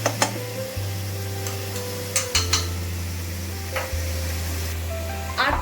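Garlic paste frying in browned onion paste for a Mughlai dish, a sizzle with scraping spatula strokes and clinks of metal on the pan, a steady low hum running beneath.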